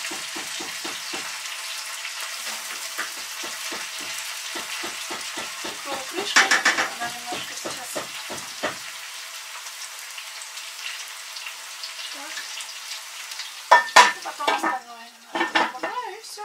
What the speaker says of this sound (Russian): Потом добавляю я картошку, немножко тоже обжарю. И уже потом капусту.